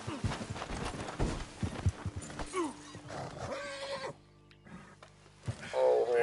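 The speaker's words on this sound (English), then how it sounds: "Oh, horsey." Horse sounds in the Red Dead Redemption video game: hoof clip-clops and a whinny among other game noises and effects, with a short quiet gap before the sound surges again near the end.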